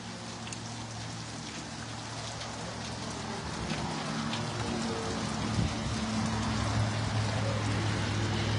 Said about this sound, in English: A little bit of a